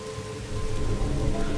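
Heavy rain in the video game Master Detective Archives: Rain Code pours down in a loud, steady wash of hiss with a low rumble beneath it.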